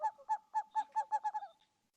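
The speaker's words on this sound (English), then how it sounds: "It was the owl that shrieked, that fatal bellman that gives the sternest good night." An owl shrieks during a live stage performance of Macbeth. About nine harsh, honking calls come in quick succession, close and clear against silence, and the last few weaken and trail off.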